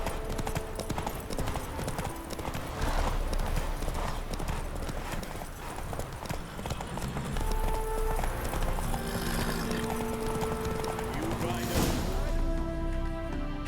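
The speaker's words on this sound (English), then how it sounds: "Come on, Roach" A horse gallops in The Witcher 3 video game, with rapid, rhythmic clip-clop hoofbeats running loud and close throughout, a crash-like burst near the end, and game music and a voice faintly underneath.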